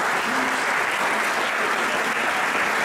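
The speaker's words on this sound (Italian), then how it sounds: "abbiamo premiato anche la Grazia Turco, facciamo un applauso." Audience applause at a local sports awards ceremony in Melendugno, a steady, dense clapping that fills the room and holds evenly for about three seconds with no voices over it.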